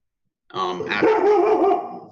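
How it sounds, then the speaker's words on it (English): A dog barks and yips close by in a quick burst of overlapping, slightly whining barks after a moment of silence, fading toward the end. "Waking up my dog too."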